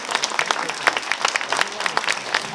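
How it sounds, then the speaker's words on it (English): An audience at a school welcome event applauds volunteers who stand up, a lively burst of many hands clapping, fairly close and steady with crisp individual claps. "Just give them the big applause."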